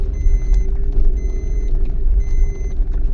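Car engine rumbling and straining as it climbs a steep mountain road in Ladakh, a continuous loud low drone with faint intermittent high beeps.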